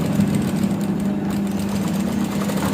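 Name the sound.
sewing machine stitching fabric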